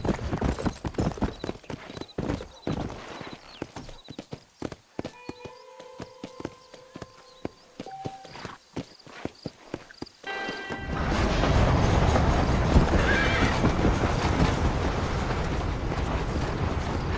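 Rhythmic hoofbeats of a horse in Red Dead Redemption, walking at first, then picking up into a dense, louder gallop over the second half, with a brief tonal snort or whinny mid-clip and no talking.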